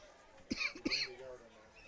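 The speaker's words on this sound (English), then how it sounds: "All I have is a cough" Two short, sharp coughs close together, close to the mic, followed by faint background murmur.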